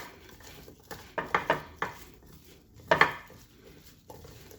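A spoon scrapes and clinks against a dish while olive oil and spices are stirred, giving a handful of irregular knocks and short scraping strokes, close and moderately loud, with quiet gaps between them.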